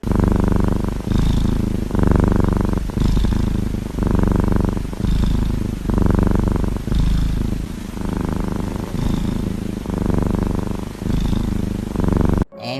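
A cat purrs steadily and close up in long rhythmic rumbles, each breath cycle lasting about a second, with faint scratchy brushing strokes from a toothbrush riding over it.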